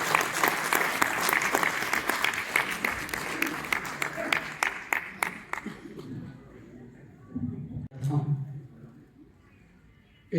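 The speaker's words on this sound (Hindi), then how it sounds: "मैं चाहता हूं कि बड़ी तालियों के साथ आप मथुरा से आए कवि के साथ।" At a Hindi kavi sammelan in Lucknow, an audience gives a poet from Mathura a big round of applause. Loud, dense clapping thins out into a few scattered claps and fades after about six seconds, then a voice begins speaking.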